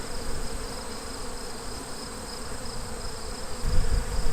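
Honeybees buzzing inside an open hive with no laying queen and many capped swarm cells, a steady dense hum of many wings close by, continuous and unbroken throughout.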